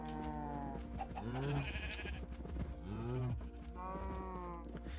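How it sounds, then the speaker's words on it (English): Minecraft sheep bleat about three times in close, wavering calls with short pauses between them. The bleats are loud against a quiet background. "There's two sheep in here as well."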